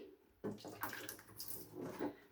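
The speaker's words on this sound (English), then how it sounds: "So empty the water in the sink." Water emptied from a clothes dryer's collection drawer splashes steadily into a sink, a soft, close gush with small surges, quiet and without talking.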